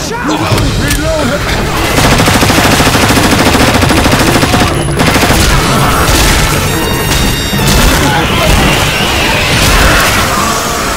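Rapid, dense gunfire from the zombie shooter game Left 4 Dead on the No Mercy campaign, with continuous automatic bursts and crashing impacts filling the whole stretch while voices call out over it.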